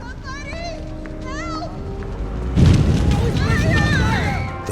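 A practical-effects fire explosion set off on a film set for a Spider-Man 2 shoot, a sudden loud low boom about midway that gives way to a sustained roaring burst, with chatter and voices heard around it.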